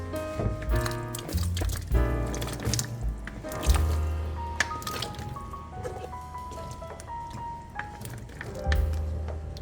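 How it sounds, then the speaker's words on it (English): Potatoes are tipped into broth in a pot for a cheeseburger potato soup, giving close wet squishes, plops and splashes with clattering as pieces drop in. Short bangs of the pot or utensils come between the splashes. "we're going to go ahead and add in our potatoes"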